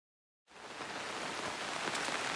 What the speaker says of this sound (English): it's been raining, kind of drizzling off and on